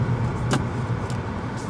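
New Honda Accord accelerating in sport mode, heard from inside the cabin; a steady low engine and road hum with a brief higher swish, fairly loud and continuous.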